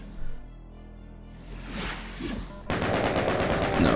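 A chaingun fires in Doom, a dense, rapid stream of gunshots that kicks in loudly partway through and rattles on without pause to the end, after a shorter burst earlier.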